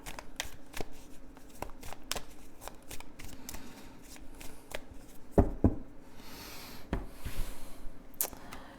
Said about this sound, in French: on va voir le tirage du destin à 13 cartes avec l'oracle des miroirs